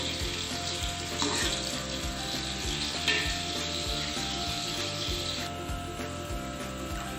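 Chopped onions frying in a pan while cooking mutton chop yakhni pulao, a loud continuous sizzle with scraping stir strokes and clinks of a spoon against the pan.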